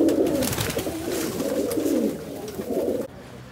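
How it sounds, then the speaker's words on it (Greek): Pigeons coo steadily in a low, throaty murmur, several birds overlapping in soft rolling calls at moderate distance, with no voices over them until the sound drops away near the end. "τα απολαύσαμε πραγματικά τα περιστέρια σου"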